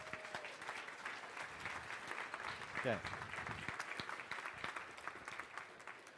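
Applause from a small audience in a presentation coaching session, a soft, steady patter of clapping with a brief spoken word near the start and faint talk mixed in.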